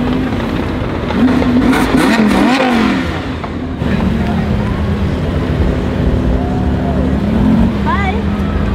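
A Lamborghini revs and pulls away at a car festival, its engine roaring loud and close with rising and falling pitch sweeps, while people talk over it.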